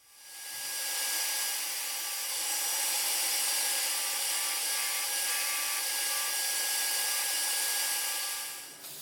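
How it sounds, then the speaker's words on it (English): A nylon abrasive brush, likely spinning on a power tool, scrubs old metal castings from a century-old mini coffee grinder, making a steady, hissing, whirring abrasion that runs continuously and stops near the end. "I'm giving it some abrasive clean up on there. This is a brush, it's a nylon abrasive brush."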